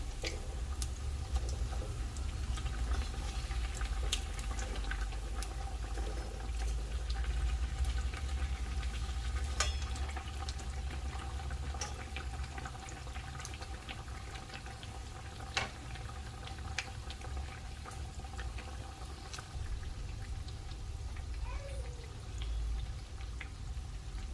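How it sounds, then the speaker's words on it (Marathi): Bread pakoras, battered bread fritters, deep-frying in hot oil, giving a steady, close bubbling hiss that runs throughout with a few faint clicks and taps. "पकोडे आहेत ते सुद्धा छान प्रकारे फ्राय झालेले आहेत"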